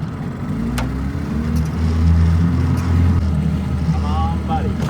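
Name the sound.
boat motor running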